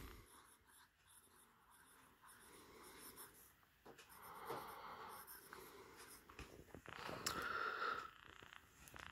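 Nib of a vintage 1956 Makeba 340 fountain pen, a Markant sub-brand entry-level model with a flexible, broad-ish nib, scratching across paper in soft continuous strokes, close and quiet over faint background noise.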